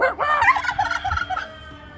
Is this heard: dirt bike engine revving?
no